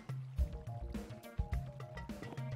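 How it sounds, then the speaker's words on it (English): In Minecraft, glass bottles are filled from a water source, giving a few short soft watery sloshing and bubbling fills in quick succession, fairly quiet. "So once you've got empty bottles, you can just right click them on a water source."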